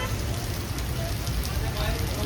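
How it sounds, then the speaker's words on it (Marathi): Heavy rain falls continuously during a flood near a hospital, a loud, dense rushing wash with a deep rumble underneath, steady for the whole stretch and close by. "आज फुल सॅटर्डे पण आणि पाऊस पण बघा,"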